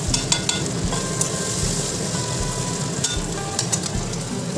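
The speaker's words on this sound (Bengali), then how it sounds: "এই যে চাল আর সব কিছু একবার দিয়ে দিলাম দিয়ে ভাজা ভাজা করে নিই" Rice with salt and turmeric frying and being stirred in a pan, a steady sizzle under scraping spoon strokes and light clinks of metal, close and continuous without pauses.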